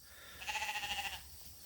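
A single sheep gives one close, clear bleat lasting under a second, with a rapid quaver, in an otherwise quiet pasture.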